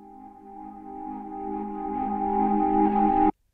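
A reversed Rhodes electric piano sample, pitched down an octave, swells gradually in volume as a low, mellow chord, then cuts off sharply.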